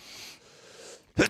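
A short, sharp sneeze bursts out close by after a second of soft, breathy inhaling.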